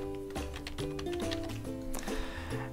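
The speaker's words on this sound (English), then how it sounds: "so we're going to type this in again" Close-up typing on a computer keyboard while entering a name into a Mac email sign-in form, a quick run of crisp key clicks at an uneven pace with brief pauses, alone and fairly loud.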